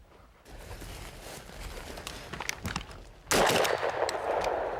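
A shotgun fired at a flushed bird during a 1996 upland hunt, one loud sudden blast about two-thirds through, ringing on after, preceded by rustling footsteps and outdoor ambience.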